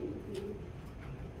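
A racer pigeon coos softly in a loft, a low murmuring call repeated over a quiet background, close and without talk.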